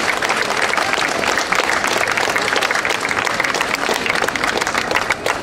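A large crowd at an outdoor Lithuanian song festival applauds Ms Diana, a continuous, loud wash of clapping that runs evenly from start to finish.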